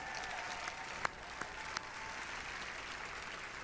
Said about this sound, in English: Could I please have another round of applause